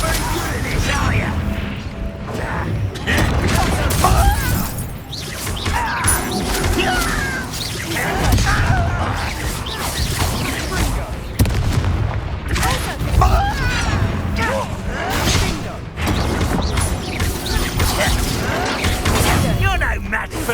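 Confringo fire spells explode in a Harry Potter video game, with repeated booms, cracks and crashing bursts under dense character dialogue throughout.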